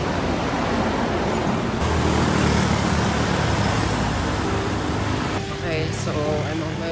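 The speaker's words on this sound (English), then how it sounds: "Hindi maganda magsalita dito dahil grabe yung traffic noise" Road traffic noise rolls on steadily and loudly, with cars, buses and trucks rumbling past close by and no break in the roar; a voice is faintly present under it.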